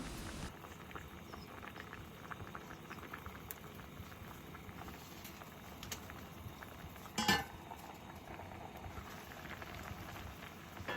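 Fish cakes are turned over in a pot of simmering fish cake soup; a soft, steady bubbling fills the clip, broken by one brief utensil clink against the pot.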